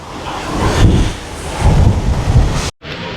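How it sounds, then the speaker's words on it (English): Strong wind buffeting the microphone on the open deck of the NCL Dawn cruise ship, loud, roaring and gusty, ending with a short cut to silence. "It's very windy."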